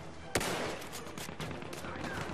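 Battlefield 1 gunfire: one sharp, loud shot cracks out early, followed by a dense wash of distant battle noise and scattered fainter shots with no one speaking.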